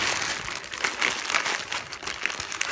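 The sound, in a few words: scrap clay wrapped in crinkling plastic bag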